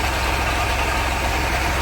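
A tractor engine running at night on farmland, a loud, steady close idle with an even low throbbing rumble and nothing else over it.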